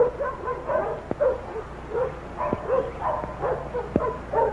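A big dog in a 1947 adventure film whimpers and yips in short, repeated bursts over a steady background hum, with a few sharp clicks between the cries.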